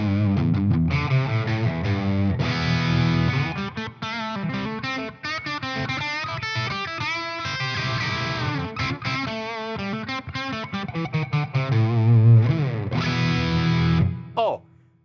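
A Gibson Les Paul Slash Jessica electric guitar plays through a Marshall amplifier with low reverb, giving a distorted, sustained lead line of bent notes and chords that rings out loudly before cutting off near the end.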